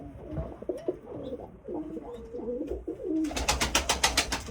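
Pet pigeons coo close by in low, warbling phrases, ending in a quick run of rhythmic rustling flutters, like wingbeats, near the end.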